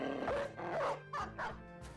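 Dog in the video game Battle Brothers barking, four or five sharp close barks and yips in a quick uneven run, loud against a quiet background.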